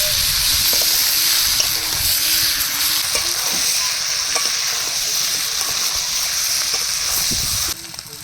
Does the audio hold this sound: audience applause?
no